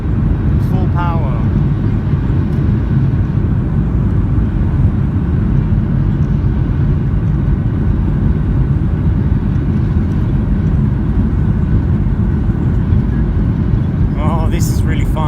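A Ryanair Boeing 737-8AS roars at full takeoff power, heard from inside the cabin as a loud, steady, low rumble that fills the whole stretch, with brief voices near the start and end.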